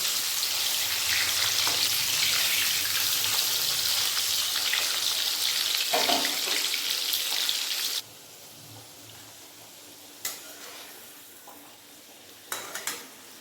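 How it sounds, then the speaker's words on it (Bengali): Potatoes frying in hot mustard oil, a loud, dense steady sizzle that suddenly drops to a quieter crackle partway through, with a few utensil knocks and stirs. "তেল গরম হয়ে গেছে তেলের মধ্যে আলুগুলো দিয়ে ভেজে নেব"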